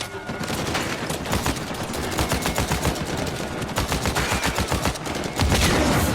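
Rapid bursts of gunfire from Uncharted 4 come as loud, closely spaced cracks in a continuous fusillade, with a heavier, louder burst near the end.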